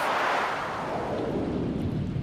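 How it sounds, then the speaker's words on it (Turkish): A deep, roaring rumble of a meteor impact in Stardew Valley swells and holds steady, loud and continuous with a rough, crackling low end. "Hem yağmur yağdı hem de meteor düştü."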